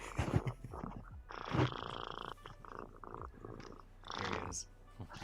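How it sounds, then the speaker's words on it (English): A cat purrs in a close, rumbling rhythm of repeated breaths, the purring cutting in and out while someone talks over it. "He's purring away."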